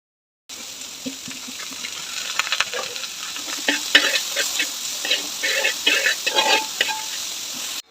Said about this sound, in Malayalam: അതുകൂടെ ചേർത്തിട്ട് നമുക്കിതൊന്ന് വഴറ്റിയെടുക്കാം.